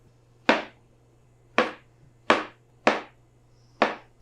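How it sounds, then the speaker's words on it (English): Knife cutting mushrooms into thick slices on a cutting board, five separate crisp chops spaced irregularly about a second apart, close and clear in a quiet kitchen. "So we're gonna go ahead and slice up about 3 to 4 ounces of mushrooms."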